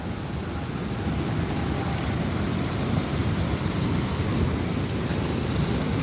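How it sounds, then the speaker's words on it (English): Water rushes steadily at a dam, a dense, even broadband roar that holds unbroken from start to finish with no pauses. "You guys probably hear the water running."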